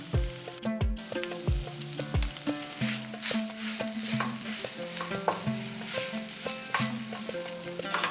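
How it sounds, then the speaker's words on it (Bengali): A spiced rohu fish filling, made with turmeric, Kashmiri red chili powder and roasted ground spices, sizzles softly in a pan while a utensil stirs and scrapes against the metal in repeated clinking strokes. "যেহেতু মাছটাকে ভেজে আমি এখানে পুরটা বানাচ্ছি"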